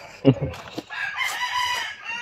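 A rooster crows close by in a rainy setting, with a few short clucks from chickens first and then one long drawn-out crow.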